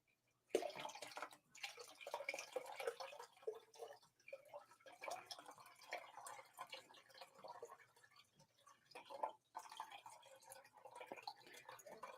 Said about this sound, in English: Now to dump the water in.